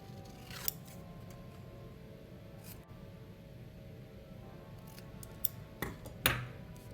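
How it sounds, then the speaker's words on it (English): Scissors snip a piece of scrap paper into a tag shape, giving a handful of short, crisp cuts spaced irregularly against a quiet indoor background, with a quick cluster near the end. "I'm just gonna cut out the shape of a tag."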